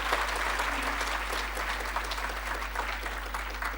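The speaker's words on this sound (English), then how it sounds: "Give them a round of applause again." Audience applause following a dance performance at a Guru Purnima and centenary birth anniversary satsang, a steady sustained clapping of a seated crowd, moderately distant and even throughout with no voices over it.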